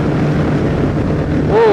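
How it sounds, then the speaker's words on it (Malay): Steady, loud wind roar buffeting the microphone while riding a Yamaha MT-09 motorcycle on a highway, a constant rushing noise throughout with an engine hum beneath it. "Angin kuat"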